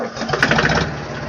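A Force Ox 25 orchard mini tractor engine runs close up with a steady, buzzy mechanical chug, loud and continuous for a brief moment, with no talking over it.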